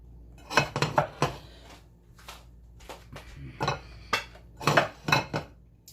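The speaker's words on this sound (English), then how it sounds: "I'm going to grab his plate" Dinner plates and dishes handled at home, several distinct clinks and clatters scattered through the clip with quieter stretches in between, close and moderately loud.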